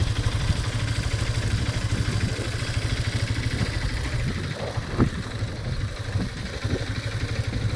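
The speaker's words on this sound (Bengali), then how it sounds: "আমার এই ছোটো গাড়িটা এখন বাইক চালাচ্ছে" A motorcycle engine runs steadily while being ridden, close by, with a continuous low throbbing drone and light mechanical clatter and no voices.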